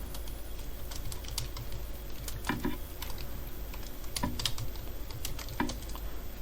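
Someone types code on a computer keyboard for an Android app, with irregular bursts of light key clicks and a few louder, sharper strokes over a quiet background hum.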